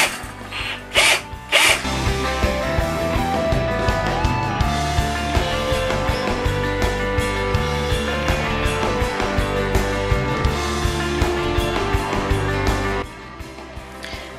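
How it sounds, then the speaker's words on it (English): A drill twists strands of wire together with a busy, rattling, ratcheting whir that runs steadily for about eleven seconds after a few short starts, then stops. "as you put the drill, if there's any slack to this, it's going to start spinning around"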